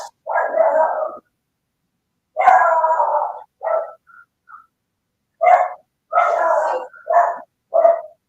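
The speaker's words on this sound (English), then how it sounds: "There's the dog." A small dog barks in short, loud, close bursts separated by silent gaps, some yaps quick and clipped, others drawn out, with no voices present.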